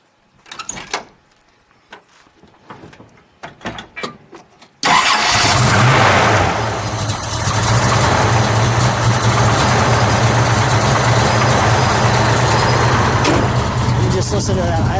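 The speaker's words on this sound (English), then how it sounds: "why don't we start that up?" A 1969 AMC Hurst SC/Rambler's engine cranks and catches with a sudden loud roar after a few quiet knocks and voices, then settles into a loud, lumpy idle that runs on steadily.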